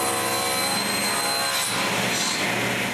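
A saw cuts through a sheet of plywood, producing a steady, continuous rasping whine that stays loud and close throughout, with no talking over it.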